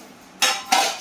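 Two sharp knife chops land on a cutting board a fraction of a second apart, crisp and close, as vegetables are cut into big pieces for a fish curry with ridge gourd and potato.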